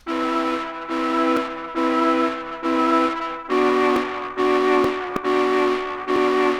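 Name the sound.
distorted Mellotron flute blended with VST flute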